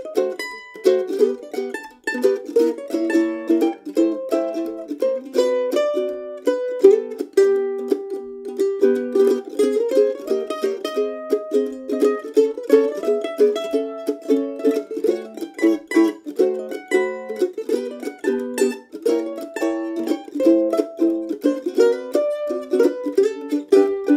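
Mandolin plays a gypsy jazz standard, a busy run of quick picked melody notes and chordal figures in a bright upper-middle register, steady and continuous throughout, with no talking.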